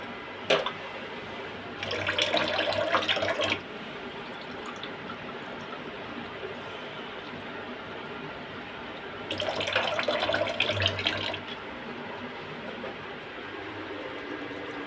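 Water is poured into a cooking pot in two bursts of splashing and running flow, with quiet background hiss between and no talk.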